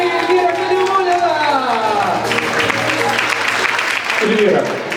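Audience applause at a student league show with a guest performer, a broad steady wash of clapping filling the room, with voices and cheering mixed into it throughout.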